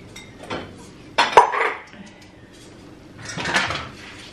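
Steel dishes, pots and cutlery clatter and clink in a kitchen as they are washed, with a sharp loud clank in the middle and scattered rattling bursts before and after.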